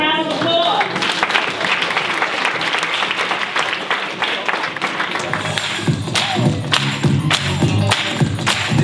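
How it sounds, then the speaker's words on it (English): An audience at a church honors ceremony applauds with sustained, loud, dense clapping throughout, sharpening into crisper individual claps toward the end, with voices mixed in. "Let's give him another round of applause."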